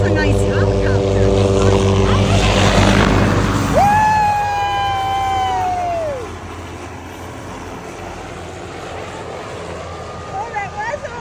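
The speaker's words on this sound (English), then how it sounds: "those are nice helicopters." MH-6 Little Bird helicopters pass close overhead with a loud rotor and engine roar and a whine that falls in pitch as they go by, then the noise fades to distant background.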